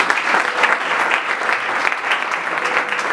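Congregation at a youth evangelism conference applauding steadily, a dense wash of many hands clapping at once, sustained and fairly loud throughout with no break.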